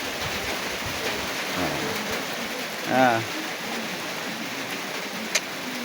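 Steady rain patters and hisses across a surface, a soft constant wash, with a brief voice rising over it midway.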